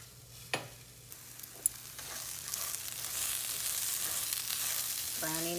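Food browns in a frying pan with a close, steady sizzle that grows louder over the clip, punctuated by a few sharp utensil clinks against the pan.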